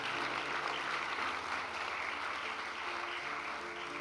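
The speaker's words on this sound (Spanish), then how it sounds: "sí aplauda, le voy a dar chance para que aplauda," A church congregation applauds during a sermon with sustained, even clapping from many hands in a large room, steady throughout.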